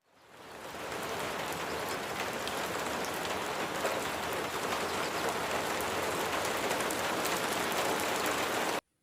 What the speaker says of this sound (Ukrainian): Так, це шум дощика.